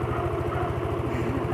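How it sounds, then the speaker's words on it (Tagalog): A motorcycle engine idles steadily up close with a low, even pulsing throb and a faint clatter, running on its own without talk over it. "Ayan po yung motor ko."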